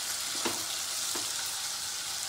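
Sweet corn stirred and mixed in a pan: a quiet, steady sizzle with two soft scraping strokes of a spoon, close and brief, no voices.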